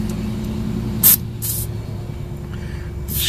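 An aerosol spray hisses into a rusty, stuck brake drum on a vehicle hub, coming in a few short bursts over a low steady background hum.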